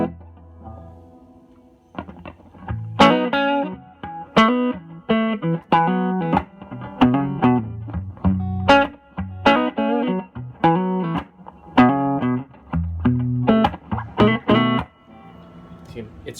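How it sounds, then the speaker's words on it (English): Electric guitar through a Crate Vintage Club 50 tube amp with EL84 power tubes and a touch of reverb, strummed in loud rhythmic chord bursts with short pauses, close and full for most of the stretch. "plug a guitar in and play some music for you"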